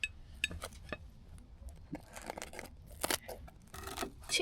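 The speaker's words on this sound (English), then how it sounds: "Got scissors. Right, you can scissor it then." Scissors snip through a crispy pizza at an outdoor barbecue on a riverboat, with quiet irregular metallic clicks and crunchy cuts, plus a few light clinks of cutlery or dishes nearby.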